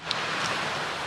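Heavy rain pours down in a steady, dense hiss that fills the short stretch evenly, close and unbroken, with no voices over it.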